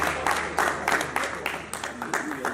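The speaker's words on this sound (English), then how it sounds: "Can we give him a round of applause?" An audience at a youth political conference applauds in a steady, moderately loud patter of many hands that runs the whole time, with a voice faintly mixed in.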